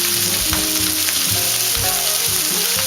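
Onions sautéing in oil, a loud steady close-up sizzle under a low rumbling background hum, with no voices.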